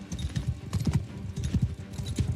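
Rapid clip-clop of horse hooves from a slow horse in a video game set in a Bretonnian knight campaign, steady and fairly quiet, with no talk.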